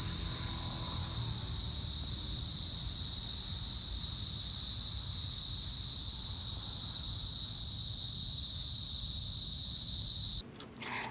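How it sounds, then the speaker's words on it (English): Crickets chirp after rain in a continuous, shrill, high trill that holds steady and fairly loud over a low outdoor rumble, cutting off abruptly near the end with a few handling bumps; no one speaks. "there are crickets that can be heard chirping all over"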